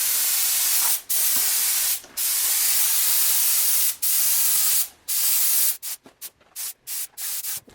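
Spray gun laying 2-pack ultra-high-solids lacquer onto a Honda Type R headlight, a close, loud steady hiss in long passes broken by short gaps, ending in quicker stop-start bursts.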